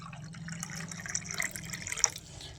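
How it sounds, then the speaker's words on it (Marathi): Water is poured into a kalash pot during a puja, a short, quiet splash and trickle with a few soft drips over about two seconds. "पाणी टाकले."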